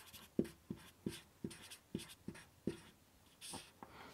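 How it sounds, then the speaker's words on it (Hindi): Chalk or marker writing on a board during a classroom geography lesson, sounding as a run of about eight sharp, evenly spaced taps and strokes, close and fairly quiet, with no talking. "मैं यहां लिख देता हूं हरिद्वार"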